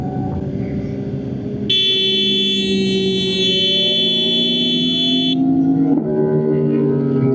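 A motorcycle horn blares in one long, steady blast lasting a few seconds over the droning hum of running engines during a group motorcycle ride in the USA.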